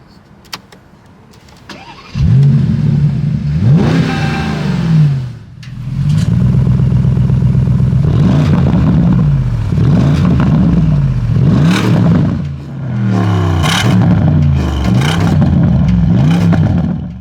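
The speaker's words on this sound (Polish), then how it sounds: "pokażę Wam jeszcze wcześniej, jak brzmi wydech" The deep V8 exhaust of a 2022 Porsche Panamera GTS roars close by outdoors, revved repeatedly in swelling bursts that rise and fall, with a loud start and brief dips between revs.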